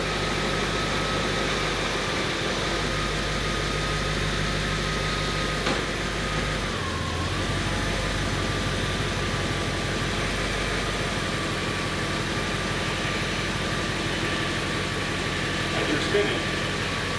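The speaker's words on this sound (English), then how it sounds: "That wheel is spinning because of all-wheel drive and the fact that we're up in the air." An Audi S8 D2 raised on a lift runs its all-wheel-drive drivetrain in reverse with a wheel spinning freely, giving a steady mechanical whir and hum with a brief clunk partway through.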